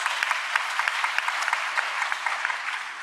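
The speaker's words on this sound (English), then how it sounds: "if you could join me in a round of applause to acknowledge the members who have contributed so much to this" Conference attendees give a round of applause for contributing members at a planetary health meeting, steady mid-distance clapping with individual claps popping out, tapering slightly at the end.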